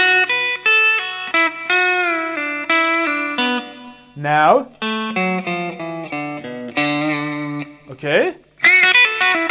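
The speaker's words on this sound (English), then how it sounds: "With a distortion and a little fast playing, it's gonna sound better." Distorted electric guitar plays quick runs of rapid triplet notes from a guitar solo in bursts, with short pauses and a couple of spoken words between phrases.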